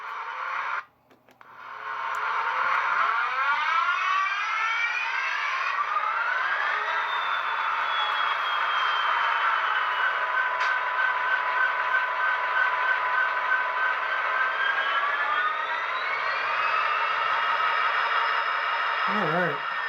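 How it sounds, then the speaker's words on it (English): An Athearn SD60M model diesel locomotive with a Tsunami sound decoder starts up on powered track, with a short clank followed by a steady droning engine whose pitch slowly rises and settles, sustained and fairly loud. "You'll be able to hear the startup."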